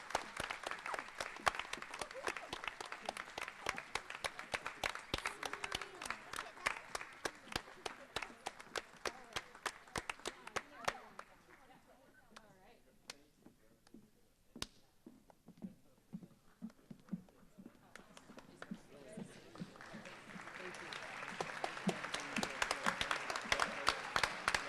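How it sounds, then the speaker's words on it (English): An audience applauds students at a youth recognition awards ceremony, a long run of dense clapping that thins to scattered claps midway, then swells again into fuller applause toward the end. "give them a round of applause for all the hard work they have done"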